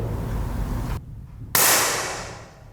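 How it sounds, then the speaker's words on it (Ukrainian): A single sharp rifle gunshot at Paralympic shooting practice cracks loudly after a moment of silence, its bright report decaying over about a second amid low background rumble. "Постріл виконано."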